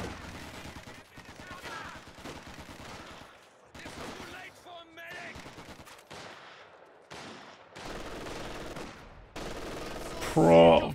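Machine gun fire in the strategy game Company of Heroes 2, heard as choppy bursts of shooting broken by short gaps, mixed under a talking voice.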